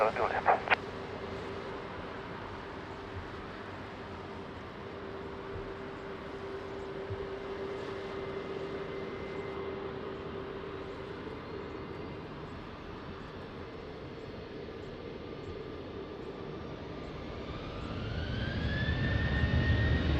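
At Lisbon Airport, an aircraft readies for takeoff on runway 20: a faint, steady distant engine drone, then a rising whine as the engines spool up near the end.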